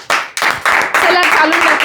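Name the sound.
audience clapping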